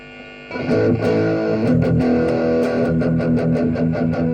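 A distorted electric guitar through a Koko compressor effect pedal starts after a brief pause, strumming repeated crunchy chords with a sustained, saturated tone, loud and alone.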